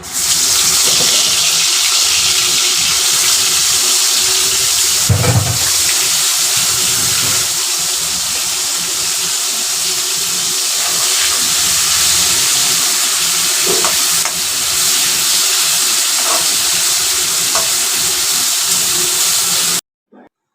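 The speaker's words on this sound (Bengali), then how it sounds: "তো এরপর গরম তেলের মধ্যে চিংড়ি মাছটা দিয়ে ভেজে নিয়েছি" Prawns fry in hot oil in a kadai (wok) as they are cooked for a prawn bhuna curry, giving a loud, steady sizzling hiss throughout with occasional stirring clatters, no talking, before stopping abruptly at the end.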